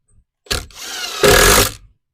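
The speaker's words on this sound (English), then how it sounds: "Or if you have the power, use our drill." A power drill drives screws into an electrical box while a thermostat is mounted, two close, loud whirring bursts, the second longer and stronger, with short quiet gaps around them.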